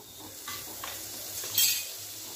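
Butter sizzling softly in a pan as a sandwich made from leftover chapati toasts, a low steady frying hiss with a few light scrapes and stirring touches, fairly quiet and continuous with no voices.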